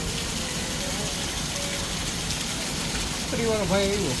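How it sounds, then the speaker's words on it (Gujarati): Heavy downpour in Kalavad, Gujarat, a steady broadband hiss of rain falling continuously near the listener, with faint voices and some tonal sounds rising near the end. "આજ વરસાદ આવ્યો હરખી રીતનો"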